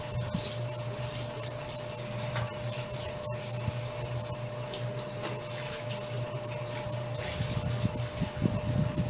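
A small tap running with a weak, thin flow of water, a steady close hiss over a constant low hum, with no voices.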